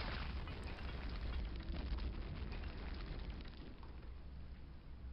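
A grenade explodes in the shooter game Return to Castle Wolfenstein with a loud, heavy boom whose rumbling roar fills the space and slowly trails off.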